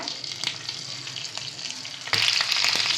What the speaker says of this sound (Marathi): आता जिरे फुलले की या मिरच्या सगळ्या या तेलात टाकून घ्यायच्या.